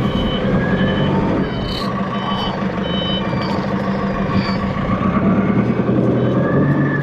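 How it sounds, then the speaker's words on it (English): Reversing alarm on an Octane FD50 11,000 lb diesel forklift beeps in a steady, loud, rapid pulse over the continuous rumble of the idling diesel engine, with no talking. "You got the backup alarm."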